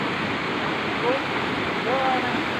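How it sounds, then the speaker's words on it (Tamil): Waterfall in an Indonesian jungle, a loud steady broadband rush of falling water, continuous and close throughout. "கீழே நீர்வீழ்ச்சி பாருங்கள்"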